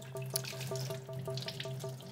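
A paint brush is rinsed under running tap water at a sink, with a steady splashing flow and faint intermittent drips, close and alone with no voices.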